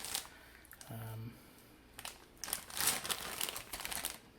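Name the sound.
crinkling of a large bag of model kit parts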